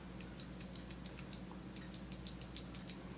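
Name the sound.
clicky blue optical switch mechanical gaming keyboard typing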